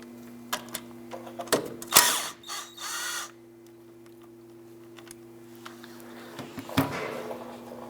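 A ratchet loosening number 7 Allen bolts on the wheel hub assembly of a 2001-2007 Ford Escape gives several quick bursts of metallic clicking with gaps between them, close and moderately loud over a steady background hum.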